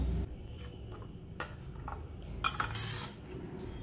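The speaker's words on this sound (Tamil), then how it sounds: "இதில் எண்ணெயை ஊற்றி கலந்து விட்டுங்க" Metal utensil clinking and scraping in a bowl while oil is mixed into garlic chutney, a few soft stirring strokes with small taps, close up and fairly quiet.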